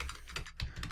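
Fingers typing a post on a computer keyboard, a quick run of soft, close key clicks in a continuous stream.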